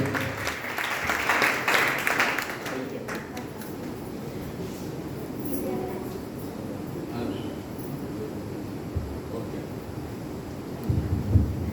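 A church congregation at a Friday worship service in Muscat applauds, with clapping strongest early on, then a sustained, softer wash of crowd noise in a reverberant hall.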